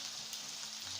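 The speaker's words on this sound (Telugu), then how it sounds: "బాగా వేయించుకోవాలి. ఆనియన్స్ బాగా వేగాలి." Onions, garlic and curry leaves frying in hot oil with mustard seeds, a steady close hiss of sizzling that stays even for a brief moment, with no voices over it.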